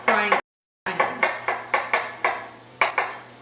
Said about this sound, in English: Now I'm going to chop about 7 cloves of garlic, medium-sized garlic.